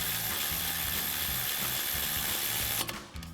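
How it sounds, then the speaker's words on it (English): A hand ratchet with a 10 mm socket clicks rapidly and evenly while tightening a brake line bracket bolt on a 4WD Ford F-150, close up, the clicking stopping near the end. "we'll tighten that back down with our 10 mil socket on our ratchet"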